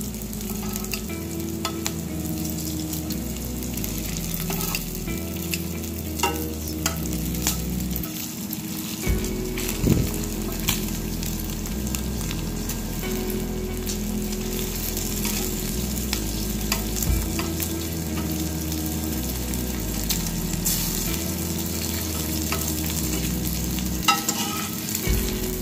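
Bacon sizzles and crackles in a Smithey cast iron skillet over medium heat, a dense, continuous close frying hiss with occasional pops and scrapes, no voices.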